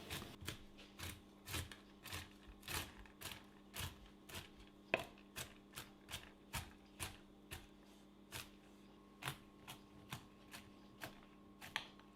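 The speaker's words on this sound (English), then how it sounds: "First there's 100 grams of pecan nuts, roughly chop them up." Pecan nuts being roughly chopped with a knife on a board, a steady series of crisp, close knocks and crunches at an irregular rhythm, with no talking.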